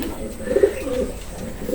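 Racing pigeons being conditioned for the race season coo in soft, repeated low murmurs close by, a steady throaty burble with a slightly louder phrase in the middle.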